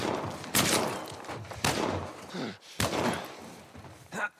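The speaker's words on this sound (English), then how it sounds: "Flashbang." A flashbang grenade goes off in The Last of Us, heard as sharp broadband blasts with ringing tails, repeated about three times over a few seconds, loud and close, with faint voices in the background.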